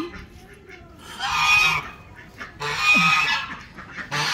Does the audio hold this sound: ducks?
yes